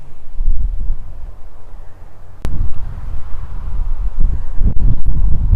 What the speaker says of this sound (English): the wind as it comes through.